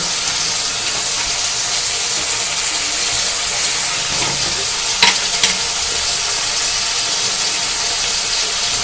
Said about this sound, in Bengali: টমেটোটা কিন্তু ফ্রাই হয়ে এসেছে